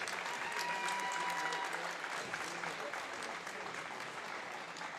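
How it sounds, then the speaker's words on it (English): Sustained crowd applause for three senior players at a girls varsity basketball game, a steady, dense wash of clapping filling the gym without letup, with faint voices mixed in. "let's give one more round of applause for our 3 senior girls basketball players"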